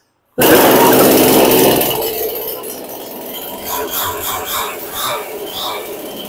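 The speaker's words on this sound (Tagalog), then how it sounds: "Powerhouse Chainsaw." A Powerhouse chainsaw starts abruptly with a loud, harsh engine roar, then drops to a steadier, lower idle that rises and falls slightly, close by.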